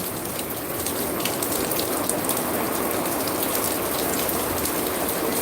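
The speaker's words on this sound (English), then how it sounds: "is this rain in Jamaica? Yes, it is, Joy." Steady, heavy rain falls on a rainy day in Kingston, Jamaica, a dense, even hiss of drops on surfaces that goes on without a break and with no voices.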